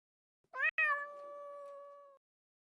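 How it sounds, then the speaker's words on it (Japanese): A cat meows in a video game, two quick close calls followed by one long drawn-out meow, clear and alone against silence. "猫が鳴いてる。"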